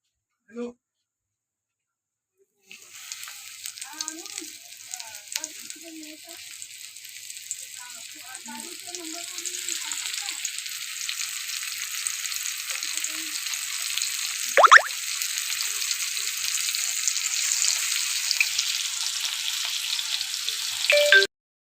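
Bombil fish coated in semolina fry in hot oil, a steady sizzling hiss that starts after a short silence and builds gradually, with faint clinks and a sharp spatter partway through.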